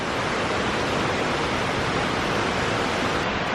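Waterfall in the Kiso Valley of Japan pours as a loud, steady, broadband roar close by, continuous and unbroken throughout.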